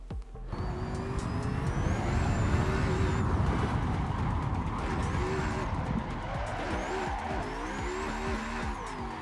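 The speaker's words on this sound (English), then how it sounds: "all I'm doing is really massaging the car to angle into this first corner" A Nissan 350Z race car drifts into a corner, its engine revving hard and steady with shifting pitch while the tires squeal and skid continuously, close and loud throughout.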